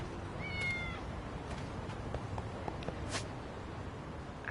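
A cat meows once, softly and briefly, in the video game Lost Judgment, followed by faint light footsteps and small taps over a low, steady game background.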